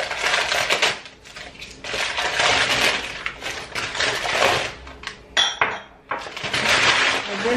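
Newly bought kitchenware, a set of six pieces and a pan, being unwrapped from its packaging: steady crinkling and rustling with scattered clinks and knocks, close and fairly loud, with a couple of brief pauses.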